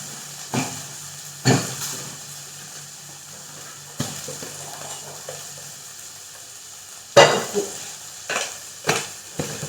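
Fenugreek leaves are sautéed in a pan, with a soft low sizzle under a handful of sharp spoon knocks and scrapes spaced irregularly.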